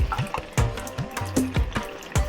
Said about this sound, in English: now we will add in our coconut milk